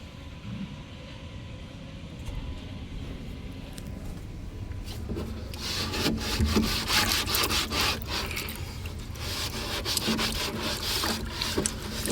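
Scrubbing a guppy fish tank clean produces a steady rasping rub, starting softer and growing louder and more vigorous halfway through, with continuous close-up scraping strokes.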